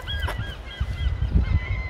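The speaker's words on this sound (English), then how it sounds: "That sound of the seagulls, it's lovely." Seagulls cry out in a string of sharp, nasal calls over a steady low rumble of wind and surf on the beach.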